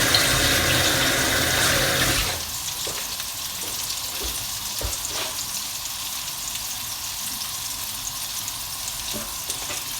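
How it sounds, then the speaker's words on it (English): Hands are rinsed under a running kitchen tap after handling raw meatball mixture, a steady rushing of water that drops to a softer trickle with light splashes and clinks for the rest of the stretch. "Wash your hands for all the meat juice."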